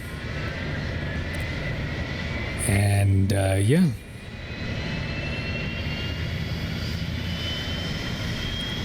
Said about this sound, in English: Now we're just waiting for the engine to start up pretty much.